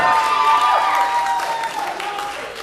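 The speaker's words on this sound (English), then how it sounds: "Y'all give yourself a round of applause." Audience applause at a heavy metal show, a crowd clapping loudly at first and then gradually thinning and fading over a few seconds, with some scattered cheers.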